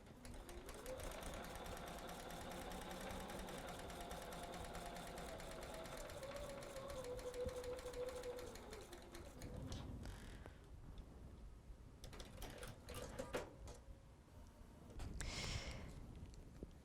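A home sewing machine stitches quilt block pieces for a Christmas sampler quilt in a steady, continuous whir that runs for about nine seconds, then stops and gives way to soft handling clicks and rustles of fabric and thread.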